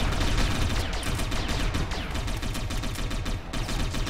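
Dense, continuous gunfire from the video game Satellite Reign, a sustained fusillade of overlapping rapid shots and bursts at steady loudness throughout.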